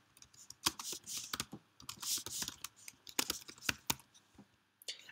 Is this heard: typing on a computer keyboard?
yes